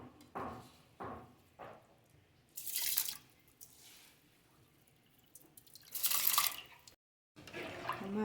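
Rice grains rattle and splash into water for mutton biryani in a few short bursts, with a louder rushing pour later, set against a quiet kitchen background.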